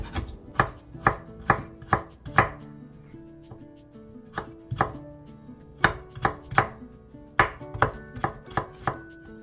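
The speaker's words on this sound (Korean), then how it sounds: "대파와 당근은 고명으로 올리기에 최대한 작게 썰어줍니다" A knife chops green onion and carrot very finely for a steamed-egg garnish, giving a steady run of crisp, close taps on a cutting board with brief pauses between bursts.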